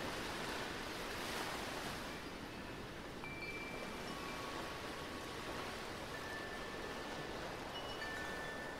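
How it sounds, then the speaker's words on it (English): Ocean waves wash steadily onto a sandy beach, a continuous broad roar with gentle swells, moderately close and alone with no voices, joined by faint high bird calls over the surf. "Listening to the rhythmic sounds of the waves and the seabirds"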